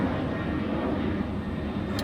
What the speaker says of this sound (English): There's a plane up there somewhere. There it is. Plane.